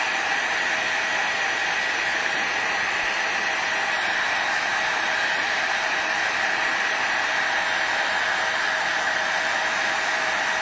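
A hair dryer blows steadily to dry fresh varnish on a tissue box, a constant loud airy whoosh lasting throughout with no voices.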